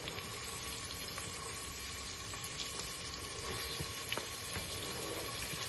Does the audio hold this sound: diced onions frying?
yes